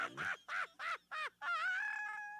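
A bird in The Misadventures of Tron Bonne video game gives a run of five loud, harsh caws, four short and evenly spaced and a final longer drawn-out one, with no speech.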